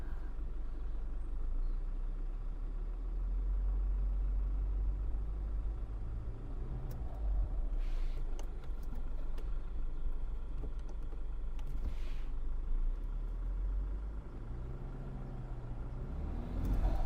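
A new Land Rover Defender with mud terrain mode engaged sits in off-road mud, its engine giving a low, steady rumble throughout, with a few faint clicks and brief mechanical whirs midway.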